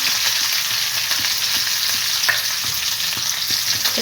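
Mustard seeds and curry leaves frying in hot oil, a loud, dense, steady sizzle with small crackles and pops scattered through it, heard close with no voices.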